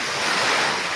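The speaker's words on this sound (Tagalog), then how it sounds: "Nandito kami sa dagat ng Jumeirah" Sea waves wash steadily onto Jumeirah beach, a continuous broad roar of surf mixed with wind buffeting the microphone, loud and close with no pauses.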